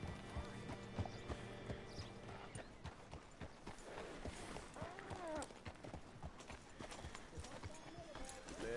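Horse hooves clip-clop in a steady walking rhythm close by in Red Dead Redemption 2, with a brief whinny and a voice talking underneath.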